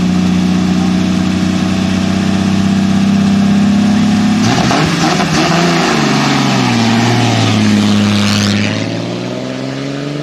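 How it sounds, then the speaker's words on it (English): A 1937 Delahaye 135 MS Le Mans six-cylinder idles steadily and loudly close by, its deep even drone rising in a brief rev midway before settling back toward idle. "A 1937 Delahaye 135 MS Le Mans 6-cylinder."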